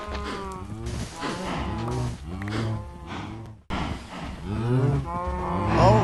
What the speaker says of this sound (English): we've got cows as far as the eye can see